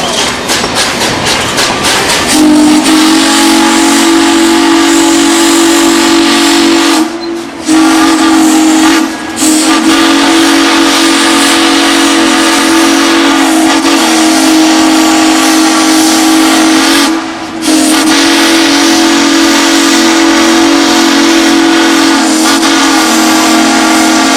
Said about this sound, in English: 1, 2, 3, blow the whistle!